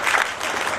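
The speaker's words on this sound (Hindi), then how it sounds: "डॉक्टर बाबा साहब आम्बेडकर के लिए जोरदार तालियां" A crowd at an Indian human rights awards ceremony claps loudly, a short burst of dense applause with no talk.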